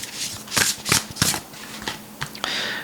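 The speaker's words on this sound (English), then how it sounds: "Let me just pull a card at this point." A deck of cards is shuffled close by in several quick riffling bursts, then a single card is drawn with a soft slide at the end.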